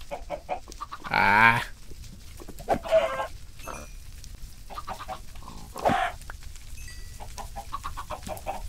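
Chickens clucking in the video game Minecraft, with several short clucks and squawks scattered among game sounds and a brief exclaimed voice.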